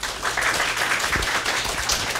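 Audience applause welcoming a guest speaker from Hong Kong at a tech talk, a steady wash of clapping throughout, moderately loud with no voices.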